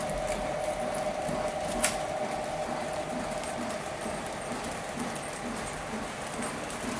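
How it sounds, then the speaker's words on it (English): A model train locomotive runs fast around a double wye track layout, giving a steady, close whirring hum with fine, continuous rhythmic clatter from the wheels and one brief click partway through. "Ordinarily, you wouldn't be running your locomotive at such a fast speed"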